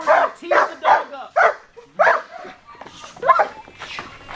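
A dog barks repeatedly during bite work training, a rhythmic series of loud, close barks with short gaps, a few yips and whimpers mixed in, and a person's voice in the background.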